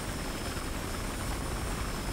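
A helicopter in Battlefield Hardline flies with a constant, close rotor-and-engine drone that holds a steady level throughout.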